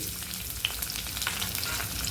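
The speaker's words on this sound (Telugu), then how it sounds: "పోపు కొద్దిగా ఫ్రై అయింది ఇప్పుడు ఇందులోకి పొడవుగా కట్ చేసుకున్న ఒక ఉల్లిపాయ వేసుకోవాలి" Sliced onion sizzles steadily in hot oil in a tempering, a dense crackling hiss with a few sharper pops, fairly close and without any talking.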